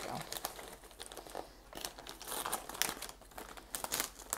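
Crinkling and crackling of paper and plastic wrapping being cut and pulled open, close and quiet, with irregular rustling bursts throughout.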